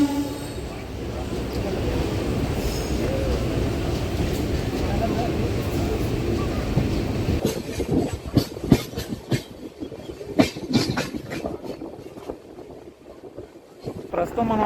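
The Saptagiri Express runs on the Chennai to Tirupati line, first as a steady rolling rumble, then as sharp rhythmic clickety-clack wheel beats over rail joints, close and loud, with a voice speaking at times.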